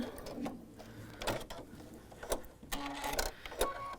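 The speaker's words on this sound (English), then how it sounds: "I'm turning the corner and stitching this last side." A sewing machine stitches the last side of a quilt seam after turning a corner, a soft mechanical whir with faint ticking rhythm, fairly quiet and close.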